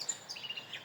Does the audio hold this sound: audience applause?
no